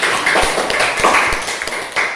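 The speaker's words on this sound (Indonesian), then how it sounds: "berikan tepuk tangan dulu." A classroom of students clapping their hands together during a civics lesson, a quick burst of close, uneven claps lasting about two seconds.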